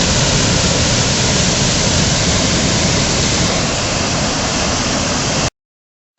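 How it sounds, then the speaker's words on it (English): A loud, steady rush of falling water roars without pause, broadband and dense, then cuts off abruptly into silence near the end. "The waterfalls is not as big as I remember it."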